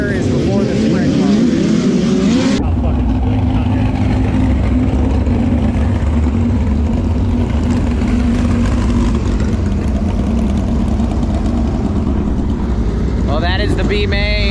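Race cars in a B main circle the track at Paragon Speedway, a steady loud engine drone filling the whole stretch, with a sharp change early on and a voice heard briefly.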